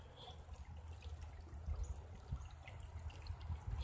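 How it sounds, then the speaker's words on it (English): Water rushes steadily out of a pond outlet in cold weather, a continuous low churning flow with a brighter trickling wash on top, fairly close and unbroken throughout. "There's a lot of water rushing out."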